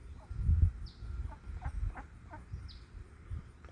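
Outdoors by water, a duck lets out a few short, scattered quacks over a low rumbling background, fairly faint and spaced out across a few seconds.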